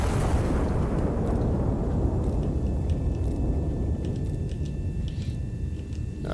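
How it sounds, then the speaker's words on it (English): A heavy turret's left barrel fires in the Iron Nest video game, a loud, sustained low rumbling blast that fills the whole stretch and slowly tapers without any clear break. "Locked and loaded left barrel. 3, 2, 1, firing."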